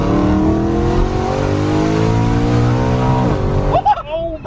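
A loud, freshly remapped BMW E92 M3 engine revs up steadily as it accelerates, pitch climbing, then a gear change cuts it and it drops off.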